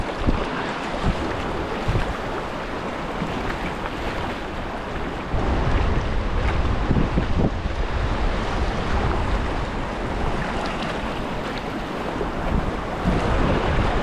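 Whitewater rapids rush through a boulder garden on the Lower Yough, a dense continuous roar of churning water, close and loud, with wind buffeting the microphone and no voices.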